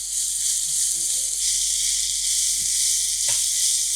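Onion and green chili paste fries in a pan with about two teaspoons of oil, giving a loud, continuous close-up sizzle with a few faint stirring scrapes.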